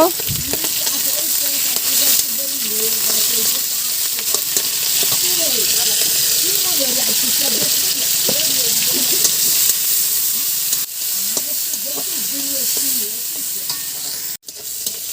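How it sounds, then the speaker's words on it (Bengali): Prawns and fish fry in hot oil in a village kitchen, giving a steady close sizzle and crackle with occasional stirring, while a voice talks faintly underneath. "মাছগুলো খুব কড়া ভাজা করব না, মানে আধ ভাজা করে তুলে নিচ্ছি।"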